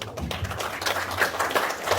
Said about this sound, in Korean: 그럼 허신행 전 장관님을 뜨거운 박수로 모시도록 하겠습니다